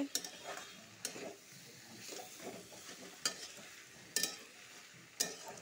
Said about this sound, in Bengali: মশলাটা ভাজা ভাজা হয়ে গেছে বন্ধুরা, গন্ধ বেরিয়ে গেছে